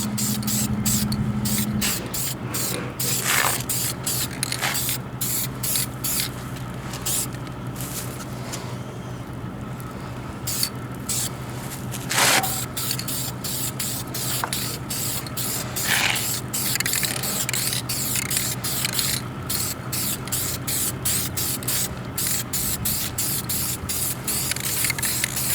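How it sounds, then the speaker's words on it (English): Spray primer is misted in a light coat onto a junkyard Mustang engine, a series of short and longer hissing aerosol bursts with brief pauses between them, close up and without talk. "we're using the primer, and we're just going to do a light coat of primer"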